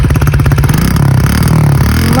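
A dirty two-stroke dirt bike idles close by with a steady, rapid, rattly putter that stays loud throughout.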